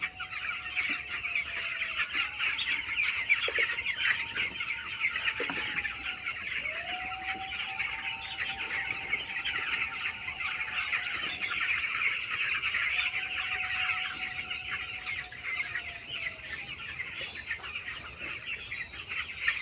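Poultry birds clucking and calling through a steady whirring fan in a hot, humid poultry shed, with repeated drawn-out calls rising and falling over a constant airy hum.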